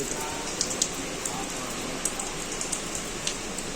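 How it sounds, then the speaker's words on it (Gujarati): Steady heavy rain pours down at night at Sasan Gir with a dense hiss, with occasional sharper drops pattering close by. "અત્યારે જોરદાર રાત્રે વરસાદ શરૂ થઈ ગયો છે"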